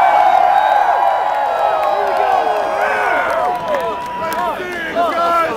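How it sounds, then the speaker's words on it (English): A large outdoor crowd at the Punxsutawney Groundhog Day gathering, over 18,000 people, keeps up a steady roar of voices with scattered whoops and cheers, loud and continuous throughout. "This is perhaps one of the largest weekday crowds we've ever had."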